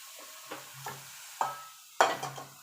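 Thick milk puli filling is stirred and scraped in a kadai, giving a few distinct scraping strokes over a low sizzle, close and fairly quiet.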